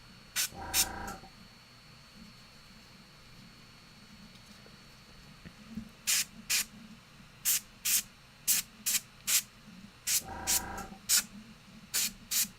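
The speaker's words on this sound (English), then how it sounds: "I'm going to spray everything basically a color." Short hissing bursts of spray paint lay a base colour over miniatures: a double spray at the start, then a quick run of about ten brief puffs in the second half, close and crisp over quiet background.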